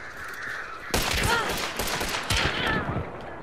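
Gunfire in the video game Hunt: Showdown erupts as a loud, dense burst of shots after a quieter first second, continuing in rapid cracks against the game's ambient sound.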